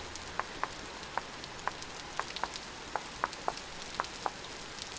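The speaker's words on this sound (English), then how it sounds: "It's just this rain makes it feel so darn late." Rain falls in the survival game Vintage Story, a soft steady patter with distinct, irregular droplet ticks landing on surfaces at a quiet, even level.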